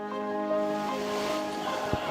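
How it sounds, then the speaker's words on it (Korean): Clear river water flows and babbles steadily at a spot where people prayed by the river near Philippi, a continuous close rush with no voices. "물소리가 참 아름답습니다"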